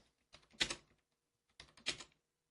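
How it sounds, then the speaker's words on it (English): Two short bursts of typing on a computer keyboard, quick clusters of clicky keystrokes separated by a brief pause, close and fairly quiet. "Let me do some typing."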